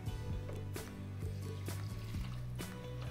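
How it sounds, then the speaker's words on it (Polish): Water pours from a tap into a pot of diced carrots, a faint, continuous trickle and splash with a steady low hum in the kitchen behind it. "Dolewam wody"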